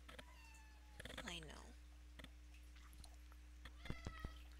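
A pet cat yowls loudly in a drawn-out meow near the start, then short, softer cries follow later, with a person's voice talking briefly over steady low background hum.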